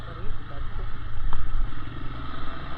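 A motorcycle engine runs close by on a road, a steady low drone that keeps on under people talking.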